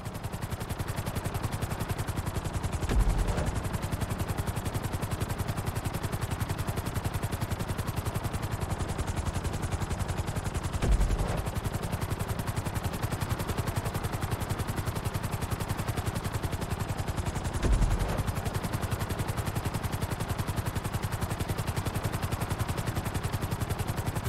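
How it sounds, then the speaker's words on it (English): A continuous helicopter rotor drone in GTA 5 fills the whole stretch, steady and loud, with a few brief thumps breaking through at intervals. "Bring the helicopter down gently onto the helipad."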